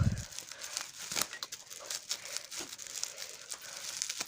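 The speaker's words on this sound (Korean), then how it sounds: "일단 이것부터 뜯어볼게요" Doll packaging being torn open by hand, close crinkling of plastic and paper with sharp ripping bursts, continuous and fairly loud with no talk.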